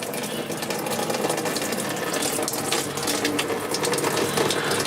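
Coolant runs out of the radiator drain plug on a BMW E39, a continuous close splashing and trickling stream with faint mechanical rattles under it.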